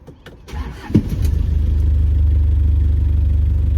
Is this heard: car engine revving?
yes